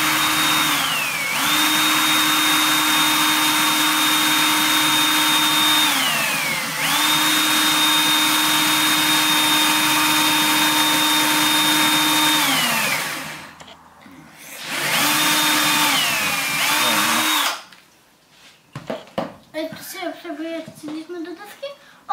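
An electric drill bores through a wooden board while a bird feeder is being built, a loud steady whine in long bursts that ramp up and wind down, stopping briefly between runs, followed by clattering and handling noises at the end.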